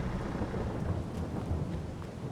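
Steady rain and rolling thunder from a farming game, Farming Simulator 22, a dense continuous wash of rainfall with low rumbling throughout and no voices.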